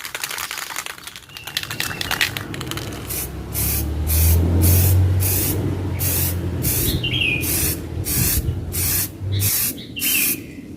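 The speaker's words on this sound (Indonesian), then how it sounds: "Jadi kita semprot tipis dulu, terus nanti ketika sudah kering kita tambahin lagi ya." Samurai clear coat paint hisses from an aerosol can onto a motorcycle wheel rim, with a steady spray and then short repeated bursts with gaps between them, loud and close.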